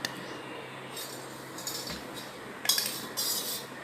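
A spoon mixes dried yeast in a bowl, giving faint scraping over a quiet hiss, then a few brighter clinks of metal against the bowl toward the end, close and soft.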